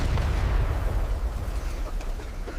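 Deep, rumbling blasts of artillery shells exploding on a World War I battlefield roll together into a continuous, heavy boom that fades slightly toward the end, loud and close with no voices.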